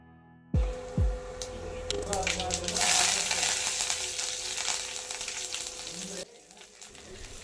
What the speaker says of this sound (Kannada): ಈಗ ಇದಕ್ಕೆ ಸಾಸಿವೆ, ಜೀರಿಗೆ ಮತ್ತು ಕರಿಬೇವು ಹಾಕಿ ಮೊದಲಿಗೆ ಒಗ್ಗರಣೆ ಕೊಟ್ಕೊಂಡ್ಬಿಡೋಣ